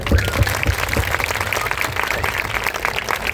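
An audience at a live Shyam Baba kirtan claps together in a brief, steady burst of applause, moderately loud and without talk.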